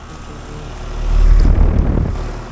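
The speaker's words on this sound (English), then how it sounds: "Airplane." At night an airplane passes overhead, a low rumble that swells to a peak midway and then fades, with some wind noise on the microphone.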